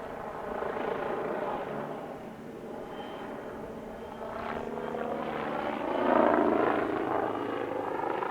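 A helicopter with flexible composite blades on a rigid monoblock rotor head flies at an airshow, its rotor and engine giving a moderate, fluctuating drone that swells louder toward the end.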